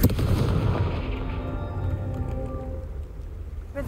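In the video game Hogwarts Legacy, the Confringo spell sets off a heavy, booming blast that rolls into a long, fading rumble, with a fresh sharp hit at the very end.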